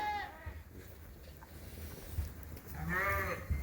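Young lambs on a sheep farm, recently separated from the ewes, bleat in two clear calls, one near the start and a louder, closer one near the end, over low barn noise.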